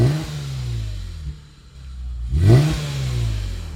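A Lexus IS 350 F Sport sedan's V6, fitted with the stainless steel Performance Exhaust Upgrade, revs loudly nearby: a rising roar that dips, then a second sharp blip swelling and settling back into a deep idle rumble.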